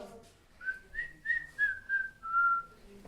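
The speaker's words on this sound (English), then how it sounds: "Whistling in a tunnel." A clear melodic whistle, a string of short rising and gliding notes ending in one longer held tone, close and alone over a faint hollow background.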